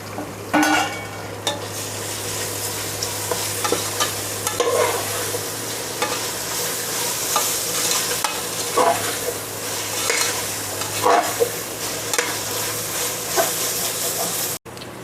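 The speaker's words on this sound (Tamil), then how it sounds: "கொத்தமல்லி புதினா நல்லா வதங்கி இருக்குது." Chopped mint and coriander leaves sautéing in a pan for vegetable biryani, a steady close sizzle and fry hiss with occasional stirring scrapes throughout, no talk.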